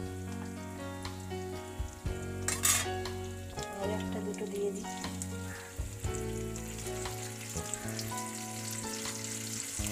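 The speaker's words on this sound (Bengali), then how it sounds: "কড়াতে মাছটা দিলাম" Tangra fish frying in oil in a kadai, a steady sizzle that flares briefly louder early on and runs under soft music or background tones, with a few words spoken quietly.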